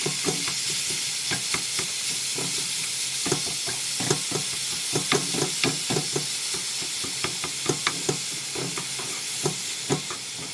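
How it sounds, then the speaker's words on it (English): Ground lamb sizzles and fries in a pan while a utensil breaks it up, steady hissing broken by frequent scraping, tapping strokes at an irregular rhythm, close and clear. "as that lamb starts to cook, we're going to break it up"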